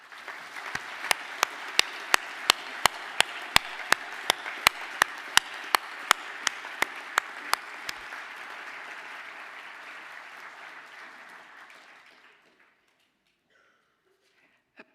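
A graduation ceremony audience stands and applauds in a hall, a steady wash of clapping with a few sharp louder claps standing out, lasting about twelve seconds before fading to near silence and one last clap.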